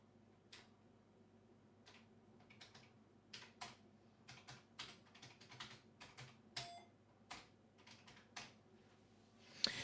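Typing on the keyboard of an Amstrad CPC 6128 home computer under repair: irregular, close clicky keystrokes over roughly ten seconds, with a steady low hum in the background.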